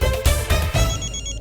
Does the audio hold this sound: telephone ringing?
yes